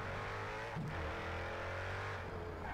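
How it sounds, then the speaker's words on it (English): A Jaguar F-Type SVR engine in the Project CARS 3 racing game pulls hard under acceleration, a loud, steady, continuous roar with a rising tone and a brief shift-like dip partway through, heard alone with no talk. "Oh my god, how this engine pulls."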